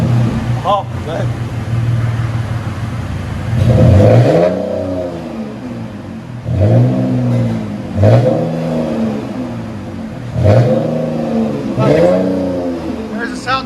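A 2009 Dodge Charger SXT V6 with true dual Flowmaster 40 Series exhaust revs repeatedly in loud, close bursts, each blip rising and falling over a steady idle.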